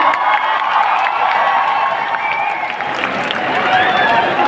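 An audience at a motivational gathering in Prayagraj cheers and claps, a dense, continuous wash of applause and shouting voices that stays loud and even throughout.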